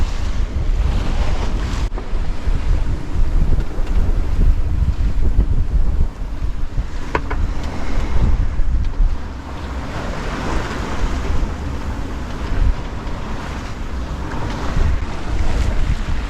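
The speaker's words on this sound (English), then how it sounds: "Particularly windy and wavy." Strong wind of about 20 knots buffets the microphone with a steady roar while waves surge and slosh around a moving sailboat, continuous and loud with no voices.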